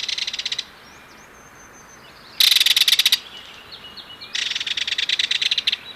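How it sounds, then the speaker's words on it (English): Belted kingfisher giving loud rattle calls while defending territory: three bursts of rapid, harsh, clicking rattles, close and strong, separated by brief quiet gaps over a faint outdoor background. "Both members of the pair vigorously defend their territory by chasing away intruders, whether predators or other kingfishers, while giving loud rattle calls like this."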